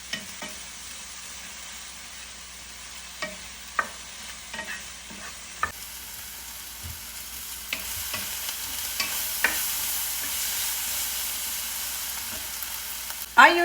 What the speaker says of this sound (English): Sprinkle some salt to saute them faster. And saute them until it's almost caramelized.